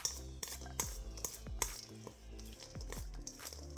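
A utensil stirs a sauce mixture in a bowl, giving a quiet, close string of scraping clinks and wet squishes in an irregular rhythm, with no talking.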